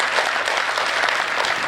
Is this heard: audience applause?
yes